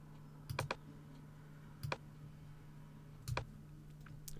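Three brief clusters of key clicks on a computer keyboard, spaced about a second and a half apart, as a shortcut is pressed on a Mac, quiet against a steady low hum.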